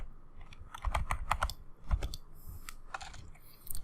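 Close-up clatter of fingers typing on a computer keyboard, entering text into a Chrome search box in quick irregular bursts of keystrokes with brief pauses between them.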